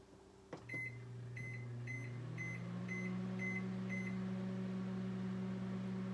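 A microwave oven heating beans: a door clunks shut, a row of keypad beeps follows, then the steady low hum of the oven running alone.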